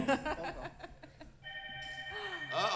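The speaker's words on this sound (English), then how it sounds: "Oh, pick up the phone." A telephone rings in a live radio studio in Detroit. Voices come first, and then a steady electronic ring sounds faintly, holding an even tone.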